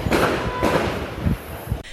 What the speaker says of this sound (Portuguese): é possível escutar o barulho dos tiros no momento em que a polícia entra no chamado Beco 11